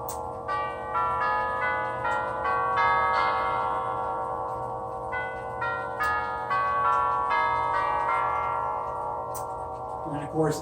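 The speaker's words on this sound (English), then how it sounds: "the Whittington chime plays 8 notes" A Herschede tubular bell clock rings out a sequence of Whittington chime notes on resonant metal tubes, each strike blending into a sustained shimmering decay, with a clock ticking softly underneath.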